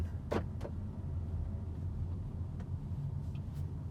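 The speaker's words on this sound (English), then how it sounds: "test driving the 2021 BMW X1." A 2021 BMW X1 xDrive28i drives along the road, heard from inside the cabin as a low, steady rumble of engine and road noise, with a few faint clicks.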